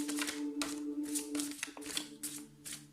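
Tarot oracle cards being shuffled by hand, a quick series of crisp riffling, flicking swishes up close with a steady rhythm and no talking.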